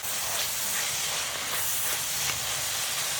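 Chicken-frying oil sizzles in a pan with a loud, steady hiss close up, broken by a few faint crackles and no speech.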